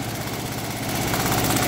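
A rebuilt Kawasaki FE290 golf cart engine idles steadily with a fast, even putter and faint mechanical rattle, close by and continuous.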